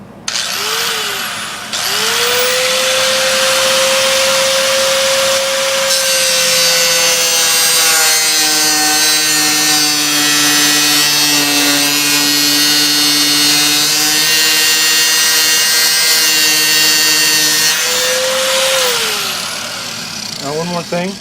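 A cutting wheel slowly slices through steel for a knife, a loud sustained high grinding screech with a tone that spins up, drops as the blade bites, holds for many seconds, then winds down at the end.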